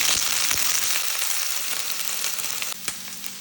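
Chopped red pepper, carrots and onion sizzle and crackle steadily in a hot pan, with occasional stirring scrapes and a brief clatter near the end.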